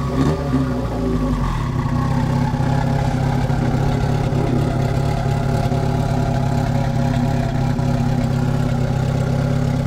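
A V10 car engine idling steadily, loud and close, with a continuous low hum and a slight rise in the opening seconds, no talking over it.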